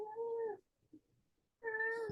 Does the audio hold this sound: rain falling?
no